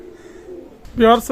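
A low, soft cooing hum is followed by a louder, throaty coo near the end from a pair of Pakistani Teddy pigeons, close by.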